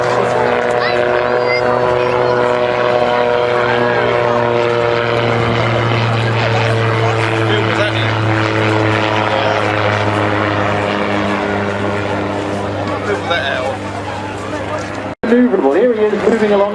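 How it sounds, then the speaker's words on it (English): A Calidus autogyro flies a display at the Herne Bay Airshow, its rotor and propeller making a loud steady thrumming drone that is joined by a voice speaking over it near the end. "be ready for Peter Davies in the Calidus Auto Gyro"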